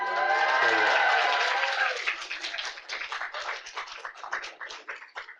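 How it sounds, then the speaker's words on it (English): Audience at a public lecture breaks into applause, a dense burst of clapping that thins into scattered, irregular claps over several seconds before fading. "thank you for clapping for the transition"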